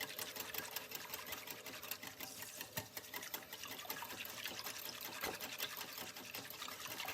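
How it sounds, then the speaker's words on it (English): A chia seed mixture is whisked steadily in a bowl, a quiet, fast and even wet scraping that runs without pause and with no voices over it. "whisking like this will help break up some more of those little guys in there too"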